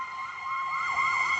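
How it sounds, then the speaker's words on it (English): Emergency vehicle siren passing outside, a wailing tone that rises and falls over a second and a half, clear but somewhat distant, with no talking. "Sorry for the siren, something must have happened."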